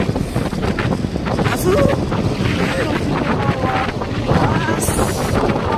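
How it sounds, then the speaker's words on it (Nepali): Strong wind blowing at a bridge: loud, steady gusty roar buffeting the microphone throughout, with a person talking over it. "कस्तो हानेको हावाले।"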